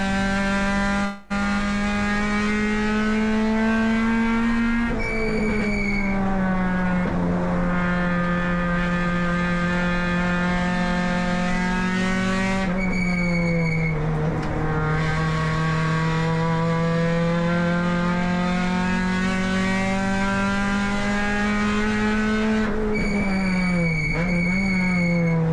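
Onboard sound from the number 7 race car during the 2024 Sydney 300 MRA round, a loud continuous engine drone that holds high revs, dips sharply on each downshift for braking, then climbs again, with no talk over it.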